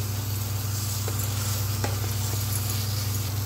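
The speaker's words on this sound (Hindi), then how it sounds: "देखिए मसाला बिल्कुल लाल हो गया, भून गया।" Spiced masala for fish curry fries in a pan until deep red, giving a steady, close, continuous sizzle with a few faint clicks and no talking.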